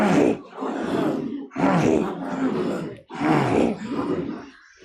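Qigong tiger breath, forceful voiced exhalations from the throat, three long growling breaths in a row with short pauses between, close and loud.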